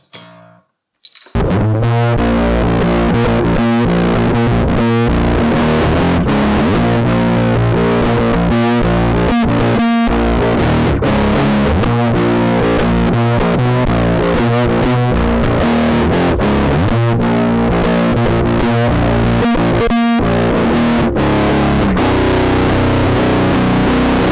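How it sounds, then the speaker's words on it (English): A heavily distorted, crunchy electric guitar played through an overdriven cassette recorder plays loud sustained chords and riffs continuously, with a gritty saturated vintage fuzz tone throughout. "Let me just push the gain a bit more and see how crunchy you can get."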